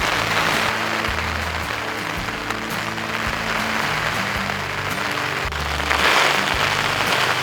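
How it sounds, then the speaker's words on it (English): Light drizzle falls at about 10,800 feet on a Colorado mountain trek after rain and hail, a steady soft patter that runs unbroken and fairly close, with a brief swell near the end and no talking. "It's a little light drizzle,"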